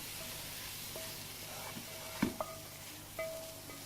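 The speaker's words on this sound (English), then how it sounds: "You can hear the sizzle, that residual heat." Quiet, steady sizzling of Cajun prawns cooking on a hot Weber Spirit II E-310 gas barbecue grill, with a few light clinks of utensils and no talking.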